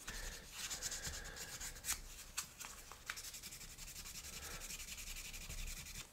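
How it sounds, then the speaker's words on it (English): Steady scratchy sanding strokes rubbing against the hard edge of a diecast toy car, close up, with a few sharper scrapes mixed in and no talking. "I think our sanding preparations are complete."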